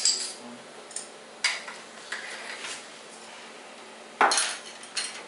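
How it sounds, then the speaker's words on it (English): A whisk clinks and taps against a bowl while flour, salt and nutmeg are mixed together, a series of separate metallic ticks and scrapes, close and moderately loud over a quiet background. "I'm using a whisk to just whisk that together"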